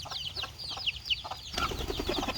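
Native young hens (pullets) clucking softly in a backyard coop on a rainy day, with several short chirping clucks scattered throughout and a faint flutter near the end.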